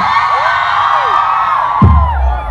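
A crowd at a live comedy show in Marechal Cândido Rondon shouts and cheers in response to the comedian, making a dense, loud roar with high squeals and whoops, then a low thump near the end.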